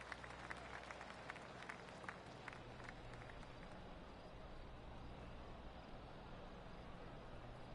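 Soft, distant applause from a golf crowd at a PGA Tour event after a shot spreads steadily throughout, a polite patter of many hands under faint outdoor noise.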